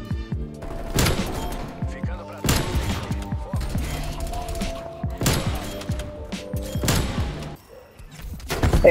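Several sharp, booming gunshots from a game, spaced a second or two apart, over a busy background of game sounds and a talking voice.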